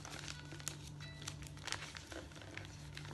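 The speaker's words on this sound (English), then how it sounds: "You take your corner and you fold it in to that middle line." Paper crinkles softly as a corner is folded in to the middle line for origami, a faint continuous rustle with light crisp ticks, close but quiet.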